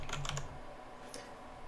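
A short burst of close, quick keystrokes clatters on a computer keyboard while searching in Unreal Engine 4, followed by a single later tap.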